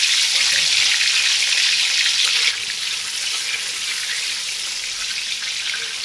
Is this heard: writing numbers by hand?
no